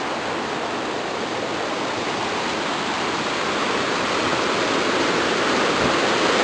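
Big Creek's rushing water roars steadily and loudly beside a trail bridge, a dense broadband wash of flowing water with no voices.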